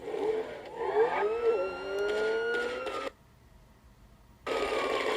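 Opening cinematic of Grand Theft Auto V playing on a Windows XP x64 computer: sustained tonal music with swelling, gliding notes that cuts out abruptly to near silence for over a second, then resumes at moderate volume.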